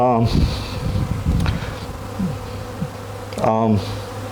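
Honey bees buzz around an open hive during a hive check, a continuous close drone with a few louder passes as individual bees fly near.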